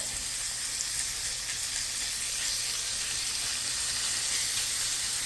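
Ground meat fries in a pan over raised heat, giving a continuous, even sizzle up close with no talking.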